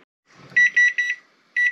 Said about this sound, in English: here we go, shutting off the kitchen timer